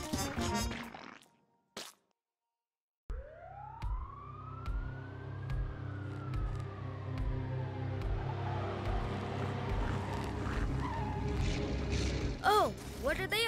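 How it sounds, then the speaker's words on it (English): Cartoon race cars rev their engines together in a loud, sustained drone with a rising, sweeping whine, starting abruptly after a brief silence, while siren-like tones and voices sound over the top. "they're revving their engines"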